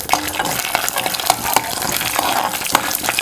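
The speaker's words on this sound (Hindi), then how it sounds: "अब हम लोगों ने इसी घी में ये जो हमने पीनट्स रखे हैं इनको फ्राई कर लेना है" Peanuts frying in ghee with a steady close sizzle, stirred in the pan with repeated scraping and light knocks of the spoon throughout.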